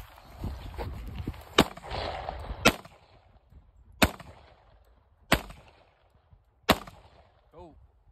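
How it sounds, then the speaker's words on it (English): Five .40 caliber rounds are fired into a bulletproof briefcase panel, each a sharp, loud crack spaced a second or more apart, with murmured talk and background noise between the early shots. "We're gonna step it up to 40 caliber, 5 rounds of 40 caliber."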